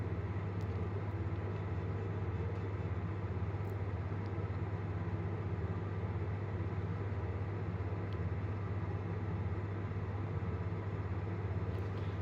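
A London Underground tube train rumbles steadily around the Kennington Loop, with a constant low, droning hum and a wash of rail noise heard from inside the nearly empty carriage, loud and unchanging.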